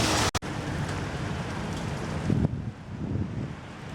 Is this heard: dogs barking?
no